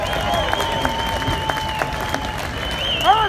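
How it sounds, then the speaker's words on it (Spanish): Applause from a concert audience at a live outdoor show in a large public square, a steady wash of clapping and crowd noise running through the clip, with a held tone and a brief sliding sound near the end. "Así que, por favor, un aplauso a Jesús de Raslán."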